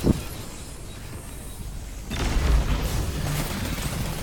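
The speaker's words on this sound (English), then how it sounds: "Rocket to the face." A rocket explosion in the video game Destiny 2, a Titan match during Crimson Days, sounding as a sharp pop at the start followed by a deep, rumbling boom that swells midway and lingers.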